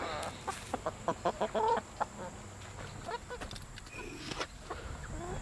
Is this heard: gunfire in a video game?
no